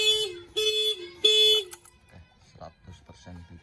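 A loud motorcycle anti-theft alarm blares in three warbling bursts with a steady high tone for about five seconds, then cuts off as people start talking quietly.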